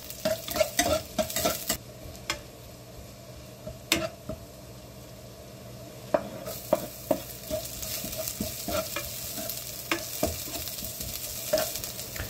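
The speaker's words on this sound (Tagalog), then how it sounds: "Then kapag mainit na, igisa na natin yung bawang at sibuyas." Garlic and onion sautéing in hot oil in a pan, with repeated scraping and clattering of a utensil stirring over a faint sizzle, close and uneven in rhythm, no voices.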